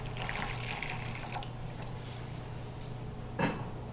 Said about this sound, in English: I'm going to add my hot water